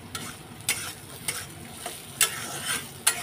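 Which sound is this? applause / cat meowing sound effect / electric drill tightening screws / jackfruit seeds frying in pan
jackfruit seeds frying in pan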